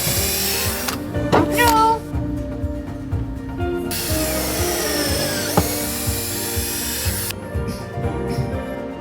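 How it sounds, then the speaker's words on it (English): A power drill boring pilot holes through the timber of a rescued wooden boat under restoration, a steady loud whirring with bursts of higher whine, people talking briefly over it. "You don't want to drill too far, even though it's away from the planking."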